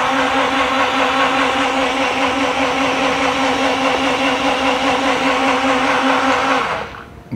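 A Hamilton Beach cordless blender whirs loudly and steadily with a buzzing motor drone for several seconds, then winds down abruptly near the end.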